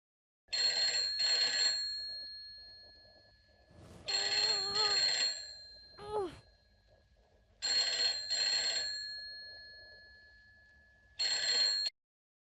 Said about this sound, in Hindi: कोई फोन उठा नहीं रहा, शायद सो गए होंगे।